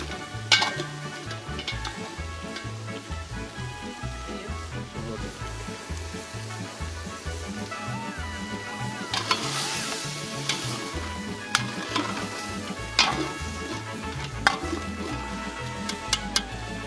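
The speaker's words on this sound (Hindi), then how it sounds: "गोश्त को कुछ खुशबूदार मसालों में तेज आंच पे भूना" Meat sizzles and fries in spices in a hot pan over high heat, with occasional stirring clinks of a utensil against the pot, steady and close.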